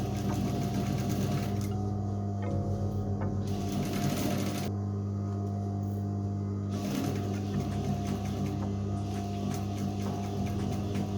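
A sewing machine stitching around fabric pants side pockets, a steady close mechanical whir running continuously with brief shifts in speed.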